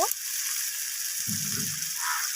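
Masala frying in mustard oil with green chillies, a steady bright sizzle and crackle close by, with a brief low stirring rumble partway through.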